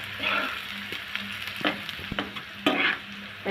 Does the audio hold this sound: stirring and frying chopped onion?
yes